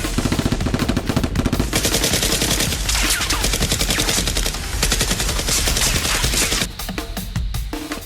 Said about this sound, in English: Jack continued to exchange gunfire with the remaining henchmen and XICMAN.